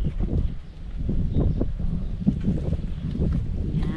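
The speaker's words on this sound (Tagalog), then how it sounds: "Medyo masarap ang hangin ngayon." Wind blows outdoors in the countryside around a house being renovated, a steady rushing roar buffeting the microphone for the whole stretch.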